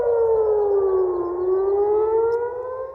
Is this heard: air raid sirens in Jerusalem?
yes